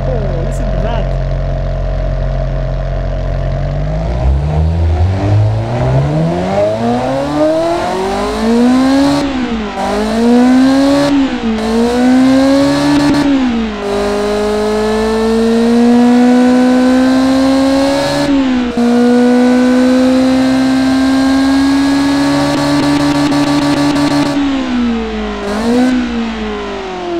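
A car engine with a straight-through, unrestricted exhaust starts up and revs hard in repeated rising sweeps, loud and close, dropping back between pulls and settling into a high, droning hold.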